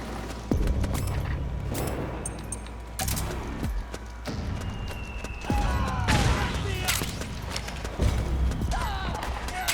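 Gunfire in Metal Gear Solid 4: Guns of the Patriots on PS3, a dense battle din of rapid shots and booms running throughout, mixed with shouted voices.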